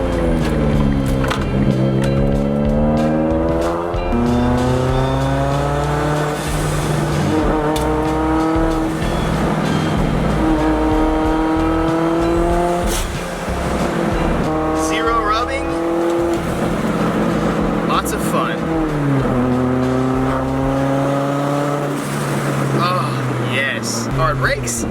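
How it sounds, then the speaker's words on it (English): A Mitsubishi Lancer Evolution X engine revs hard with rising and falling gear pulls, close and loud, as the car brakes sharply between bursts; someone talks over it. "Hard brakes. God, this car's fun to drive."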